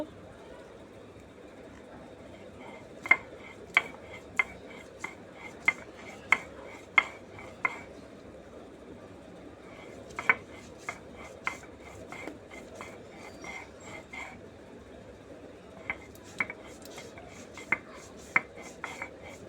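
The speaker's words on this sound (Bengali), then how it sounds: "আম্মু ডালগুলো বাটতে শুরু করেছে।" Chickpea lentils being ground on a stone slab with a grinding stone, sharp intermittent knocks and scrapes in irregular bursts against a low background, fairly quiet and close.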